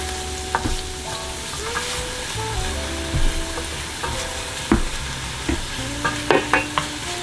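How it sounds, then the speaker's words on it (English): Vegetable stems sizzle in a hot pan while being stirred, a steady frying crackle with scraping utensil clanks and light knocks, close up and with no talk. "Just gonna saute the stems for a couple of minutes and then put the leaves in."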